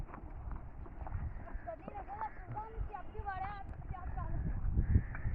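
A donkey pulls a cart across farmland, its hooves clip-clopping in an irregular rhythm close by, while people talk over it.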